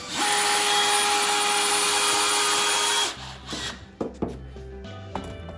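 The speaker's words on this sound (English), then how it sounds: "So I'll go ahead and put in some more bottom screws." A power drill drives screws into a floating shelf, whining loudly and steadily for about three seconds, then stopping, followed by a few knocks and handling sounds.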